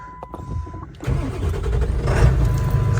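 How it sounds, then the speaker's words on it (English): Ford F350 pickup with a 7.3 Powerstroke diesel, a barn find parked for ten years, cranks and fires up, settling into a steady, loud, rumbling idle up close after a brief chime and clicks. "let's see how she starts up"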